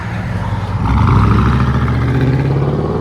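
A 2005 GMC Sierra 1500 5.3L V8 with true dual exhaust, Flowmaster Super 10 mufflers and quad tips revs up from idle to a loud, deep rumble that holds steady.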